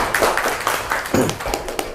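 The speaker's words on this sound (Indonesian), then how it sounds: "tepuk tangan dulu untuk teman-teman ya" Forum audience claps for participants, a short patter of sparse, uneven hand claps close by.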